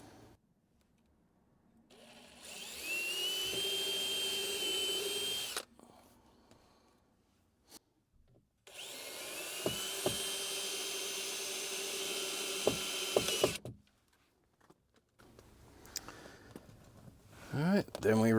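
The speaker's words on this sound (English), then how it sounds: "And then I'm going to tighten these up." A power tool whirs steadily in two long runs, tightening nuts onto bolts on a storage panel in the rear of a Jeep Gladiator, with short clicks between runs and brief talk nearby.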